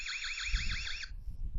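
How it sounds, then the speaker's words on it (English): An EZVIZ C3W ezGuard Husky camera's built-in alarm sounds a loud, warbling electronic siren for about a second, then cuts off, leaving low background rumble. "There's your little camera alarm, and it beeps."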